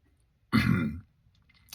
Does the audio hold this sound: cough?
yes